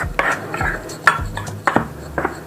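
Flour, baking powder and salt stirred together in a bowl for a banana cake, giving repeated scraping strokes of a utensil against the bowl with light clinks, close and moderately loud.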